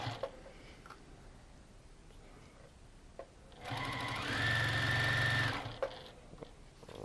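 A sewing machine stitches binding onto a quilt in a loud, steady whirring run of about two seconds, with quieter room sounds and brief handling before and after.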